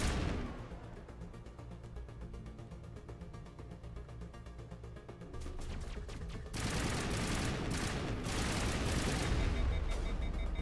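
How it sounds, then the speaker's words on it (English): Mass Effect weapons firing explosive rounds, a rapid stream of shots that swells into a louder, denser barrage of bursts and pops in the second half. "the explosive rounds are just overheating my stuff too fast"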